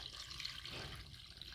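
Coconut water is poured into a blender jar while making pina colada juice, a steady, soft splashing trickle, close and fairly faint, with no talking.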